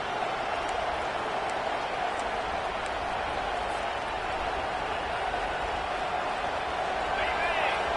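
Steady, dense home crowd roar in NCAA Football 25 as the defense tries to get off the field on third down, a continuous loud wash of cheering that holds level throughout under play-by-play commentary.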